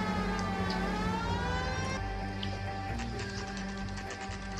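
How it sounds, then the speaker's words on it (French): A police car siren wails in the L.A. Noire video game, with rising and falling tones over a steady engine drone and no voices. "on a la petite sirène sur l'analogue"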